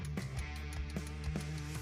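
Turn signal blinker of a 2016 Honda Odyssey ticking rapidly, a quick regular series of faint clicks over a steady low cabin hum, with no voices.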